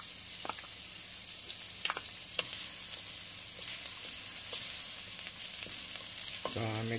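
Chopped garlic sizzles steadily in hot oil, a continuous crackling hiss with scattered louder pops near the start and a stirring scrape near the end, no voices over it.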